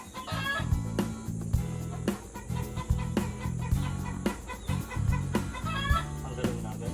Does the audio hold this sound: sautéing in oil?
no